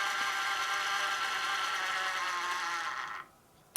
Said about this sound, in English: you can hear the points changing in the background